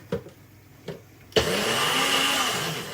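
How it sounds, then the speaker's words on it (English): Kitchen blender used while making a sauce for oven-baked chicken with feta and tomato: two short knocks, then the motor whirs up loudly and runs steadily to the end. "We're literally going to pop it on the blender."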